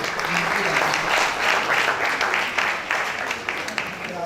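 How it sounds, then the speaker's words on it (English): Audience applause at a World Antimicrobial Day event, a dense steady wash of clapping from a crowd with voices mixed in, sustained at an even level throughout. "Please give them a round of applause."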